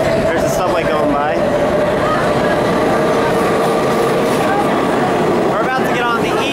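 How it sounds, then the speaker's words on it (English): A New York City Subway E train rumbles past loudly and steadily at close range, its wheels clattering and squealing briefly over a constant roar. "There's a subway going by."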